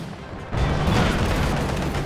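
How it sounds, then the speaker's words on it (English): Tank guns fire in the video game Company of Heroes 2, a heavy booming barrage that bursts in after a brief quieter lead-in and rumbles on loudly and continuously. "Tank guns."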